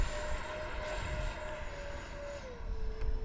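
An ARROWS Hobby MiG-29 Fulcrum RC jet model flies over a grass field, its ducted fan whining steadily in the distance, with the pitch dropping as power changes, over faint outdoor noise.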